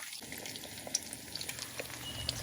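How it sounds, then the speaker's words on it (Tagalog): An egg fries in hot cooking oil in a pan as part of a garlic rice meal, a steady close crackling sizzle with small pops scattered through it. "Ay, mainit na po yung mantika. Ilagay na po natin yung itlog."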